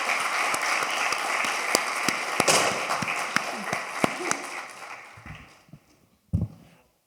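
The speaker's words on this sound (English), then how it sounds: "A round of applause for Jim and Kat." Audience applause for presenters Jim and Kat in an auditorium, a dense sustained patter of many hands clapping that thins and fades toward the end, with a brief louder burst just before it stops.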